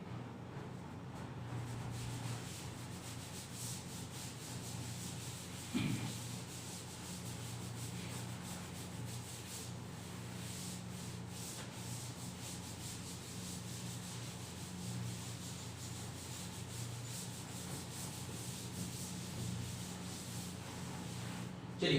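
Writing is rubbed off a classroom board with a long, continuous soft scrubbing, steady and fairly quiet, with no talking over it.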